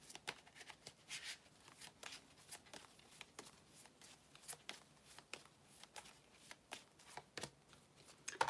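Tarot affirmation cards being shuffled by hand, a steady run of soft papery riffles and taps, close and quiet, continuing for several seconds with no talking.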